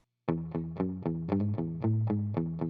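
A distorted electric guitar loops a chugging riff from a looper pedal, steady rhythmic chords repeating about four times a second, loud and close with no voices.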